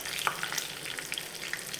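Mustard seeds splutter in hot oil for sambar, a soft sizzle dotted with quick irregular pops and crackles, close and fairly quiet.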